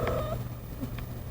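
A female cat in heat gives a short, drawn-out vocal cry near the start, then faint purring and small vocal sounds over a steady low hum indoors.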